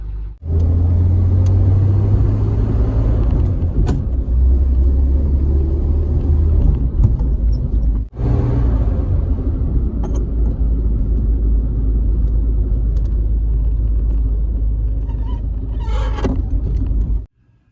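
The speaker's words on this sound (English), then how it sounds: "so I'm going to drive it around with the cap on and then let it cool off and check it again." A Shoebox Ford fitted with a new aluminum radiator drives along with a steady, loud, low engine rumble and road noise, holding constant for the whole stretch with only a brief dip partway through.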